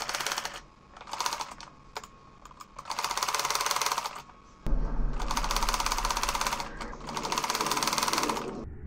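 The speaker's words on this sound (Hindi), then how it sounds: "अब हम यहाँ से सिलाई लगाना स्टार्ट करेंगे और साथ साथ लगाते जाएंगे।" A sewing machine stitches fabric in fast, close mechanical clatter, starting in short stop-start bursts and then settling into longer continuous runs.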